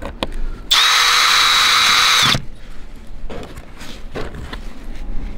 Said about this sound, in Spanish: voy a usar este para poner los tornillos acá, ¿ok? Ok, voy a poner los tornillos aquí.